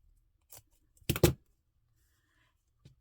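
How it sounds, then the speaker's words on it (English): Scissors snip through paper for a junk journal embellishment, a short cluster of crisp cuts near the mic, with a faint click before and after in an otherwise quiet room. "Just going to do one that's roughly that size, and then I'll cut a bunch the same size."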